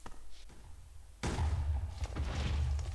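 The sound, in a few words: explosion blowing up a tower level in Minecraft RLcraft video game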